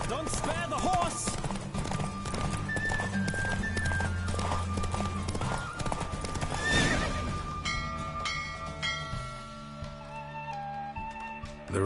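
A horse gallops with steady clip-clop hoofbeats and neighs loudly, over busy game music and effects, during a horse race in The Witcher video game on PS4.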